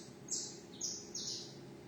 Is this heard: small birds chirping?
yes